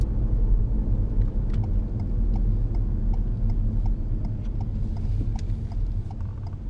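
Car engine running in gear as the driver shifts and slows for a junction, a steady low rumble with faint ticking mechanical clicks throughout, continuous and fairly loud inside the cabin, no talking.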